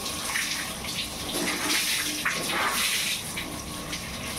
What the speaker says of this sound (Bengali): এরকমই জামা কাপড় ধুচ্ছি, এরকমই জামা কাপড় ধুয়ে নিচ্ছি, নিজে ভিজে যাচ্ছি